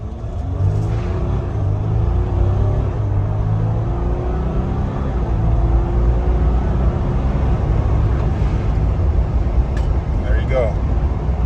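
A Jeep Wrangler Rubicon with an 8-speed automatic accelerates hard from 0 to 60, its engine rumbling loudly and steadily as it rises through gears. The sound carries inside the cabin, with a few faint clicks near the end.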